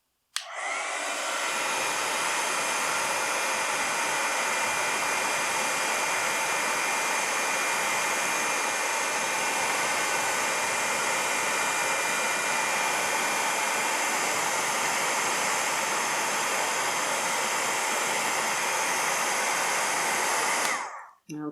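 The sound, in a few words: heat embossing tool heat-setting embossing powder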